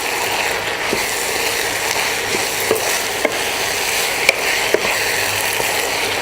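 Sauce for American chop suey sizzles steadily in a pan while being stirred, with a few sharp clicks of the utensil against the pan scattered through the continuous frying hiss.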